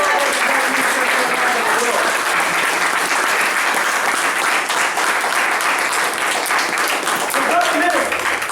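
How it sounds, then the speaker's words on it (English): A congregation at a religious meeting applauds loudly and continuously for over eight seconds, a dense wash of clapping that stays level from start to finish. "give yourself a round of applause"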